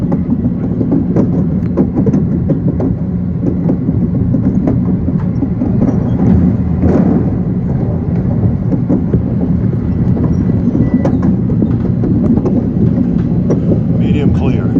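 An elevated subway train rumbling overhead near Queensboro Plaza, a loud, continuous low roar with rattling wheel and rail clatter that holds steady throughout.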